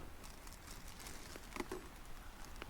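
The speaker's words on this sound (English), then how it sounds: "It is actually starting to rain as well." Light rain begins falling on a tarp at a wild campsite in the UK, making a faint, soft, steady patter with scattered tiny ticks over quiet background hiss.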